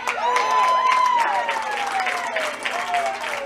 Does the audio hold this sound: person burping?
no